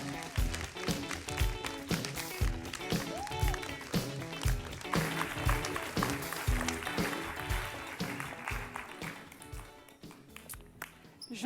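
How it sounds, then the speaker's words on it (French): Thunderous audience applause welcoming a speaker onto a stage, sustained clapping mixed with music and rhythmic beats, loud at first and slowly fading before a voice begins. "Je vous demande de faire un tonnerre d'applaudissements pour accueillir Anne Laliron"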